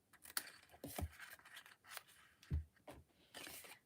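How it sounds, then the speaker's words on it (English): Scissors snipping through stamped card stock in a paper-crafting session, a series of short crisp cuts close up with small pauses between them, no voices. "So I'm just going to cut in at a little angle there."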